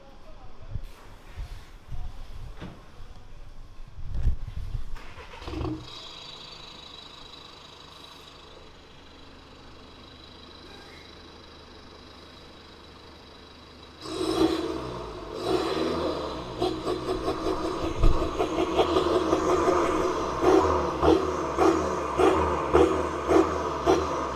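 A VW Golf 7 with a 1.6 diesel engine and a remote-controlled Varex exhaust idles with a low, steady rumble, then the note swells louder and rougher with repeated throttle blips and pulsing revs toward the end.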